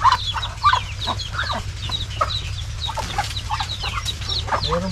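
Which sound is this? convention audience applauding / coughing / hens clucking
hens clucking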